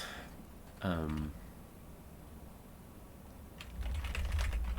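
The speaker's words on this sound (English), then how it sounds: "I'll just type again." Rapid clicking of keys on a computer keyboard, a loose run of keystrokes picking up near the end, with a short voiced sound early on over a low background hum.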